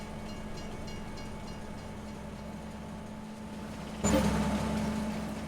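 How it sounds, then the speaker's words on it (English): A train running in the video game Farming Simulator 22, a steady low rumbling drone with a constant hum, swelling slightly louder near the end, with no talk. "The train will drive to Elm Creek, sell our products."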